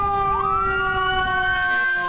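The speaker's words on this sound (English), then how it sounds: "Screeching tires and sirens." Emergency vehicle sirens wail at a busy high-crash intersection on Cleveland Avenue, steady rising tones that hold loud and close without break.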